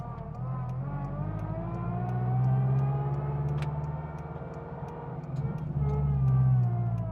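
A turbocharged 8th-generation Honda Civic's engine revs up, rising and falling twice in sustained, loud, near pulls with a low rumbling tone.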